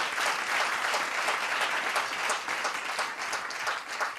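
An audience applauds continuously for a child's parents at a Tamil children's show event, a dense, even wash of clapping that holds steady throughout at a moderate level.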